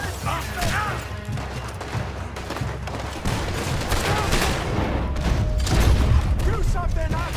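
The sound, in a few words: gunfire in the video game Red Dead Redemption 2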